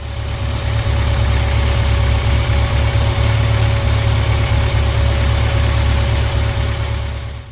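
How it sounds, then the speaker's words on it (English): An MGB GT classic car engine idles steadily with a low, even rumble and a faint whine, and the sound stays constant throughout. "I'm just going to start the car up now again"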